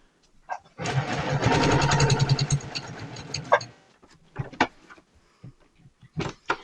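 A sewing machine back-tacks a quilt seam in a loud, close burst of rapid needle chatter lasting under three seconds, followed by scattered clicks and handling knocks.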